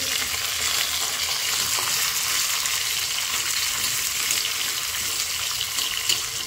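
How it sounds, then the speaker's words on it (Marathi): Garlic and tomato pieces frying in a little oil, a loud, dense, steady sizzle close up, with faint stirring movement and no pauses. "तर आता छानसा लसूण आणि टोमॅटो तुकडे असे परतून घ्यायचे।"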